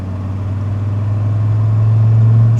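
A Dodge Viper with 121K miles cruising on a Saturday night, its engine a loud, steady low drone from inside the car that grows slightly stronger and deeper toward the end, with no talking.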